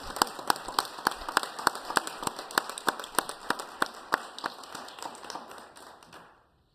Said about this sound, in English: I think applause for both the proclamations.